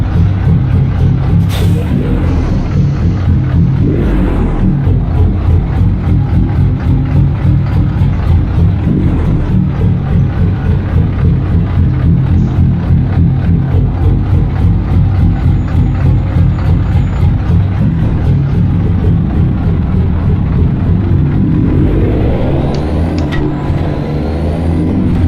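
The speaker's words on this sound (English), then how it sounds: "I love the sound of this truck" A heavy truck engine in American Truck Simulator drones loud and steady with a low rumbling pulse, holding constant throughout with a brief shift in tone near the end.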